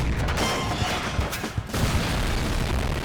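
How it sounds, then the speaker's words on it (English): A scale miniature barrel explosion staged as a film effect, heard as a dense, loud blast with crackling bursts and rumbling booms piling on one another for a few seconds. "Barrel explosion, which was a miniature."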